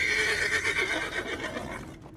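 A horse gives one short, loud whinny with rising and falling cries, close and alone, set against a bleak windswept road.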